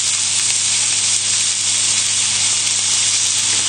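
Pork tenderloin searing in a hot oiled pan gives a loud, steady, dense sizzle that holds without a break, with no voices over it.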